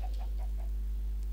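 A chicken in the Minecraft game gives a few soft, evenly spaced clucks close by, about four short calls over a low steady background hum with no talking.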